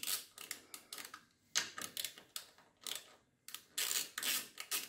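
Quick bursts of ratchet clicking, close and fairly faint, as bolts holding the fuel tank on a Kymco ZX motorcycle are loosened, in short repeated runs with brief pauses between.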